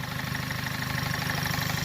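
A Volkswagen GTI engine idles steadily after a bad fuel injector replacement and carbon cleaning, a close, even low rumble with a faint rhythmic pulse and no voices.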